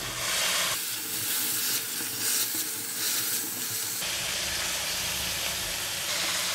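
Snap peas, cauliflower and carrot stir-frying in a hot wok, a steady loud sizzle and hiss with the sound shifting abruptly as the vegetables are stirred, no talking.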